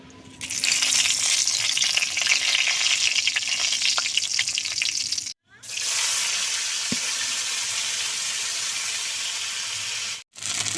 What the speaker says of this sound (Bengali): ঝোল সম্বরা করব, তার জন্য দিয়ে দেবো সরষের তেল। ফোড়নে দেব গোটা জিরে, শুকনো লঙ্কা, তেজপাতা।